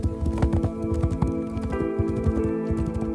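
Hooves of free-ranging horses clip-clop in a quick, steady rhythm close by, with regular sharp knocks sounding over a continuous low tonal hum.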